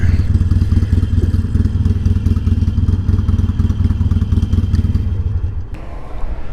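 Harley motorcycle riding through Vero Beach, Florida: a steady low engine rumble with pulsing exhaust throughout, close and loud, easing off slightly near the end.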